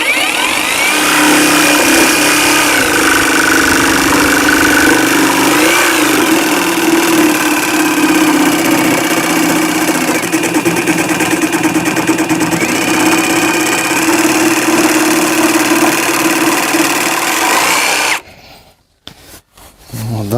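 A Heimerdinger LB291 cordless jigsaw cuts through a board while its speed is varied, giving a loud, continuous, close buzzing motor whine for about eighteen seconds before it abruptly cuts off.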